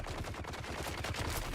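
Heavy gunners in The Alters fire a rapid, steady stream of automatic bursts, continuous, rhythmic and fairly close, with no speech over it.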